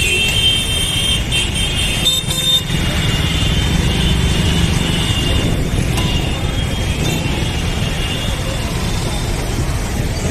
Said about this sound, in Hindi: ये पुल के नीचे ना भाई बहुत ही ज़्यादा जाम होता है, क्योंकि सब जगह से यहाँ पे बाइक गाड़ी आती है